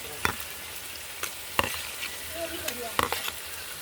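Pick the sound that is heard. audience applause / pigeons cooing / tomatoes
tomatoes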